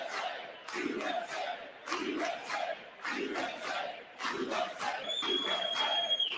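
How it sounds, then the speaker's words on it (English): A crowd in the chamber at a State of the Union address boos and shouts in repeated surging waves, loud and sustained, with a brief whistle-like tone near the end. "Now the booing is just ignorant."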